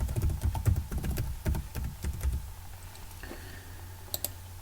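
Rapid clicks of fingers typing a password on a computer keyboard, close and dry, slowing into a few scattered taps after a couple of seconds.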